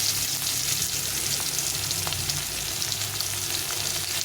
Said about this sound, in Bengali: পেঁয়াজটাকে একটু ভাজা ভাজা করে দিতে হবে